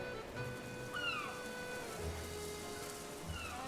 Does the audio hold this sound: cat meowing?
yes